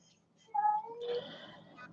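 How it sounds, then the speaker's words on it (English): An old pet cat gives a short, near meow followed by a longer drawn-out cry, fairly faint in a quiet room with no talking. "Sorry if you guys can hear my cat."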